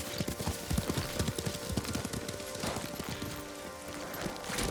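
Horse hooves gallop in Ghost of Tsushima, a fast continuous clatter of hoofbeats, loud and close, over a busy game soundscape.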